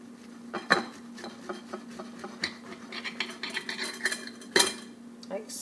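A knife slicing through a toasted basil cheeseburger on a board, with crisp crunches and clinks of metal against plate, two sharper knocks standing out over a faint steady hum.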